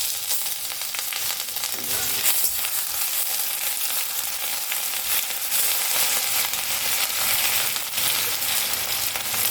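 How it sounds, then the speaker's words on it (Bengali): Grated ginger fries in hot oil in a pan for a Bengali lau chingri dish, giving a loud, continuous sizzling hiss with occasional stirring scrapes and no talking. "এবার আমি গ্রেট করে রাখা আদাটা দেবো।"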